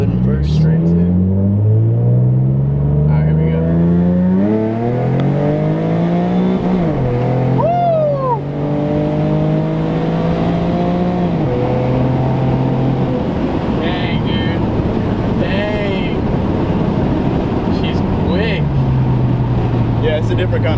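A Procharged V6 Mustang accelerates hard, its engine rising through the gears with falling pitch at each shift and whine on top, loud and sustained for about twenty seconds as people talk excitedly over it.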